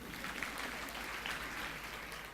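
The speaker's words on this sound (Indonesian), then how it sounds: "tepuk tangan kawan-kawan sekalian." Faint, distant applause from an audience at an inspirational talk forms a steady, even patter that lasts a couple of seconds without any clear single claps.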